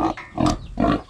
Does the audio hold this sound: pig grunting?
yes